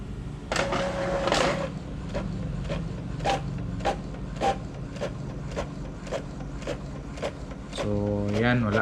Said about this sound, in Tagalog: mag-test print muna tayo para makita natin kung meron na bang black